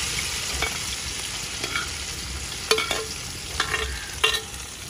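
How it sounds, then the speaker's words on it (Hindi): Okra sizzles in hot ghee in a village kitchen, with a continuous frying hiss broken by several sharp scraping clacks as a spoon stirs the pan. "घी जो है हमारा गरम हो चुका है, अब इसमें हम भिंडी ऐड कर देते हैं।"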